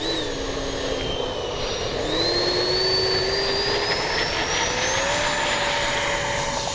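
Twin 64mm ducted-fan jets of a Freewing JL-10/L-15 RC model at takeoff, a steady loud whine rising in pitch as throttle builds, with broad rushing noise underneath throughout.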